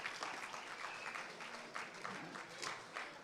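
Audience at a school chapel service applauds the juniors, a brief moderate burst of many hands clapping with soft uneven peaks.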